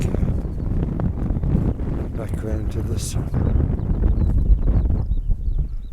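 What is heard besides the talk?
strong wind on a hilltop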